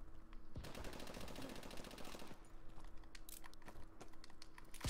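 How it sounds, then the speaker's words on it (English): Rapid automatic gunfire from Call of Duty: Advanced Warfare, a dense rattling burst of close shots lasting about two seconds, followed by sparser scattered shots over background noise. "Oh my god, I'm shooting somebody."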